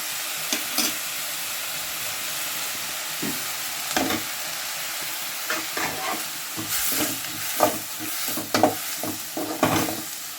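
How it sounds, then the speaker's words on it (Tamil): Chopped onion and ginger with salt sizzle in a hot pan for wheat samosa filling, a steady frying hiss broken by repeated scraping stirs that grow busier toward the end, close and moderately loud. "நாம் உப்பு ஆனியனில் போட்டு வதக்கிக்கலாம்"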